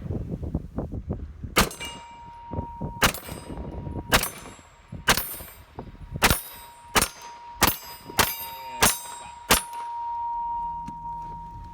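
A Glock 19 pistol with a Trijicon RMR sight fires a string of about nine sharp shots, each followed by a ringing metallic clang as steel targets are hit. The shots come at an uneven pace and are loud and close.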